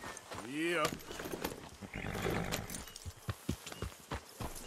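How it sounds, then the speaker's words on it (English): Hoofbeats from a horse in Red Dead Redemption 2 clop in an irregular run of steps, close up, with a brief neigh-like rising sound near the start and a voice talking over part of it. "Here's my horse."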